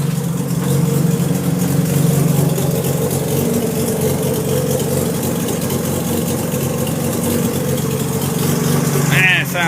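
A freshly rebuilt Mazda RX-7 rotary engine idles steadily on its first start, a close, even, droning hum that holds throughout, with a brief rattle near the end.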